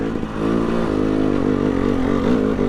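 A motorcycle engine chugs steadily in low gear while riding over rocks and logs, a close, loud, rumbling drone with slight rises in revs and no speech.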